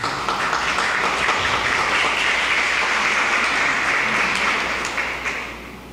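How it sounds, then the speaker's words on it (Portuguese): A congregation at a Catholic charismatic prayer-group meeting claps together in steady, sustained applause that fills the room, then eases off and softens over the final second. "Eu convido você a aplaudir a palavra do Senhor."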